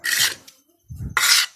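Potting soil and cocopeat mixed by hand: two loud, close, gritty rubbing and rasping bursts of the damp mix being worked, separated by a short pause.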